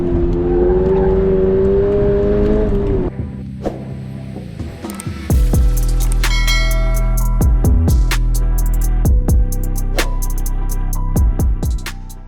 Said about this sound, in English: Damn, this NSX is fast.